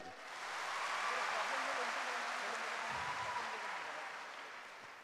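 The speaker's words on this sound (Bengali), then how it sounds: "সবার জন্য জোরে একটা করতালি।" Applause from a large auditorium audience of several thousand swells quickly, then holds as a dense, steady wash of clapping before slowly tapering off.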